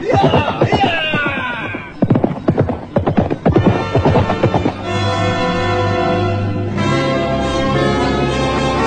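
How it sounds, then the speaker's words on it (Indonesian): Horse hooves clip-clopping in a steady rhythm as a rider approaches a house courtyard, with a horse neighing clearly near the end and a voice briefly heard over the hoofbeats. "Setelah beberapa saat lamanya berkuda"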